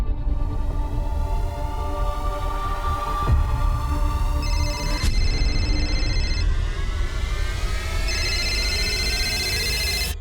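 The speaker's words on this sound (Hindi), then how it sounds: "रिंग तो जा रही है" Phone ringing out on an outgoing call to a wife's number, a repeating electronic ring tone in steady bursts over a low throbbing hum, fairly loud with no talk.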